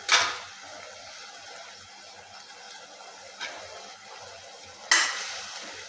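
Onion sautéing in a pan for a traditional village recipe, a quiet steady sizzle broken by three sharp scrapes or clanks of a spoon against the pan.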